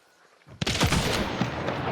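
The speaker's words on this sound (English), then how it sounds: "that's a shotgun" A single loud, close shotgun blast from the video game Hunt: Showdown cracks out of near silence and trails off in a long, rumbling echo.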